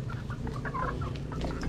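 Young pullet chickens cluck softly in a pen, a few scattered short calls over a low, steady farmyard background.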